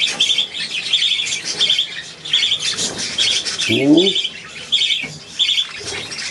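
A pet budgerigar indoors chirps and squawks almost without pause in bright, rapid bursts close to the listener, with a short spoken murmur in the middle.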